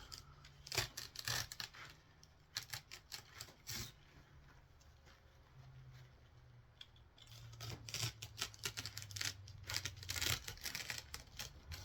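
Scissors cut a hole through homemade filter material, a run of crisp snipping and crunching cuts with short pauses, close and fairly quiet with no talking.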